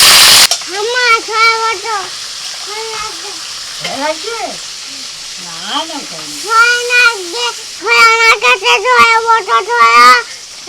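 Bay leaves, cardamom, cinnamon and cloves crackle and sizzle in hot oil, a steady frying hiss heard beneath a person's voice speaking or singing almost throughout.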